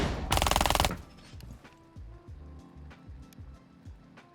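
An automatic rifle fires a loud, dense burst in Rainbow Six Siege, heavy recoil implied, lasting under a second, followed by quieter scattered game sounds and clicks.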